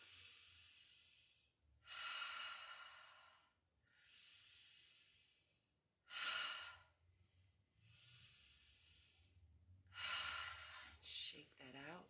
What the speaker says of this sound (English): I'm going to breathe in on the way up.